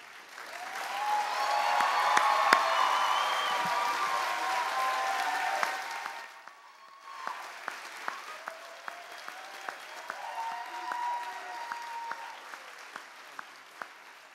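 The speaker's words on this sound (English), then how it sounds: "I'd like in a moment to give President David Finney an energetic round of applause" Energetic audience applause at a college commencement ceremony, a loud sustained wave of many hands clapping that fades after about six seconds into scattered, thinner claps.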